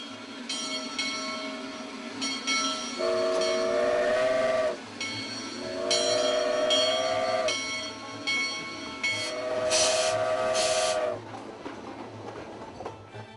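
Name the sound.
locomotive pulling a freight train, with whistle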